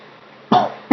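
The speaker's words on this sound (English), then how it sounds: "coughs his way through what I'm saying" Two sharp coughs during a podcast recording, close to the microphone, spaced about half a second apart over quiet background.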